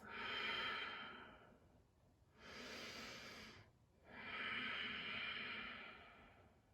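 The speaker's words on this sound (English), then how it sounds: "One more breath in." Slow, deep breathing in a yoga child's pose: a long airy exhale, a pause, then two more drawn-out hissing breaths, close and soft, with no other sound around them.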